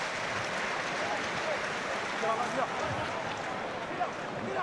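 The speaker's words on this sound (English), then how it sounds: "Generous applause from the fans here." Rugby fans in a stadium applaud steadily during a New Zealand v Samoa World Cup match, a broad, continuous wash of crowd clapping at moderate distance with a commentator talking over it.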